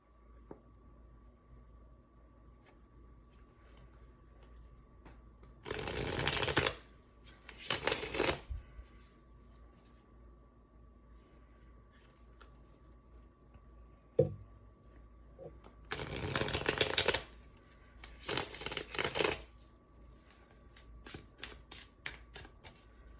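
Tarot cards from a Memento Mori deck being shuffled in four separate bursts of riffling, each lasting about a second, with a single sharp tap between them, close and fairly loud against a quiet room.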